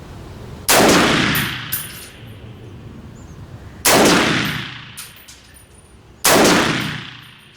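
An AR rifle firing at a target 50 metres away, three loud, sharp gunshots spaced a few seconds apart, each with a ringing decay and a faint clink afterward, heard close and without talk.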